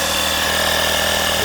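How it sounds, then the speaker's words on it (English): An air compressor inflates a car tire with a loud, continuous rattling motor drone close by, and no one speaks. "So this is my air compressor, been with me for the past 5 years."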